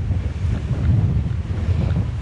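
Strong wind buffeting a microphone on a mountain summit, Mont Saint-Baudille in the Hérault, a loud continuous low rumble with gusty swells and no voice.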